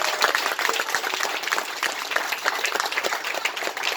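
A crowd applauds at a public gathering in Cité la Cure, steady dense clapping throughout, fairly loud and close, with no clear speech over it.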